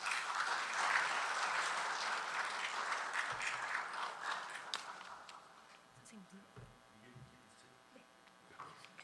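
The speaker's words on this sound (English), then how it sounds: "give a warm round of applause to welcome our esteemed keynote speaker" Audience applause welcomes a keynote speaker at an academic conference on social sciences in Asia, fairly quiet and distant, strongest early and fading away after about five seconds into faint room noise and shuffling.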